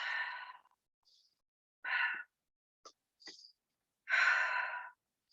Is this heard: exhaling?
yes